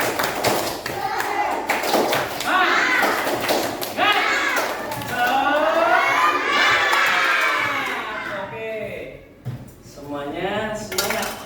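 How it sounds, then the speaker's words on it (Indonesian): Schoolchildren in a classroom performing the tepuk semangat clapping chant, rhythmic bursts of claps interleaved with loud shouted chanting voices, energetic and close, ending in a brief lull before more shouts. "kalau siap coba keluarkan untuk tepuk semangat kalian. Tepuk semangat"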